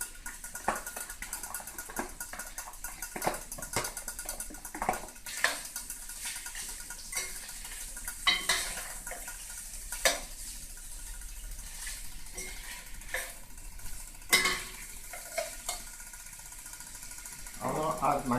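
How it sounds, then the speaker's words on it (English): Onions go into a pot of fried kidney and fish for ugu soup and are stirred, giving sharp clanks and scrapes of a spoon over a light sizzle while a person talks throughout. "So now I'll start adding all my vegetables. These are onions."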